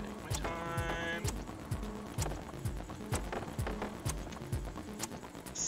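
Horse hooves in the video game Prey, a steady rhythmic clip-clop of regular hoofbeats at a trot, with faint game sounds and a brief neigh-like tone.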